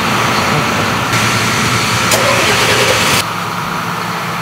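A brand-new John Deere 6R tractor engine starts up and settles into a loud, steady diesel idle, with a brief rise in roar midway before easing back to a lower, even rumble.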